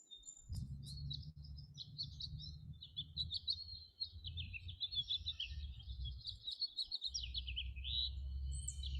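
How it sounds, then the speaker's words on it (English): A house finch at a marshland sings a long, warbling, melodious run of notes that rises and falls, carrying steadily over a low rumble of background noise. "The house finch is the same bird Genesis saw."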